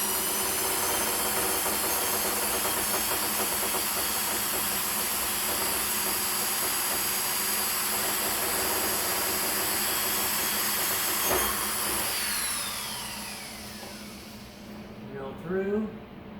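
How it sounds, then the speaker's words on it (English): A loud, steady whirring drill runs continuously with a hissy edge while drilling pilot holes for cooling flaps, then stops and leaves quieter background noise. "Then we can use our drill to drill the pilot holes."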